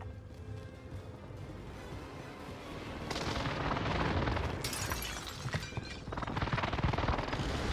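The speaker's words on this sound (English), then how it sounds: "Enemy precision airstrike." Call of Duty Warzone Rebirth precision airstrike: a low rumble builds into a dense run of loud, rolling explosions with sharp cracks on top, continuing for several seconds with no talk.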